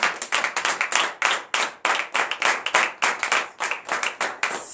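A church congregation at a morning prayer service claps in an ovation, with dense, rapid, overlapping handclaps that stay loud and close throughout and no voices on top.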